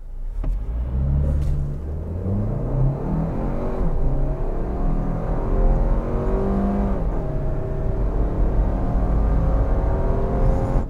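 A 2023 Toyota Highlander accelerates hard from a standstill to 60 mph, its engine note climbing steadily through several gear changes over a continuous loud cabin rumble, with no talking.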